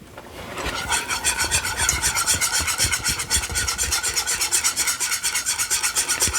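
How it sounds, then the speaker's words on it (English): Gravy is whisked quickly in a pan, a brisk, rhythmic scraping and swishing that continues steadily and close by for several seconds. "I'm gonna give it one more real quick whisk."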